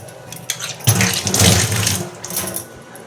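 Thin rice gruel (ganji) poured into a cup, a steady liquid stream rising to a fuller splash midway, then tapering off, close and fairly loud, with no one talking.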